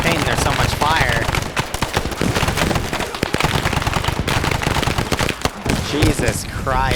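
Dense, sustained gunfire fills an Arma SOG Bright Light battle, with rapid automatic bursts and overlapping shots close and loud throughout, while voices talk over it.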